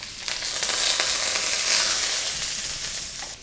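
Sliced onion hitting hot oil already toasting a cinnamon stick, star anise, cardamoms and cloves for quinoa chicken biryani, bursting into a loud, close, hissing sizzle that swells and then slowly settles, with no speech.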